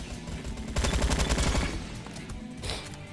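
An AK-47 assault rifle fires in a Roblox first-person shooter, a rapid automatic burst of sharp, evenly spaced shots lasting about a second, followed by quieter mechanical handling.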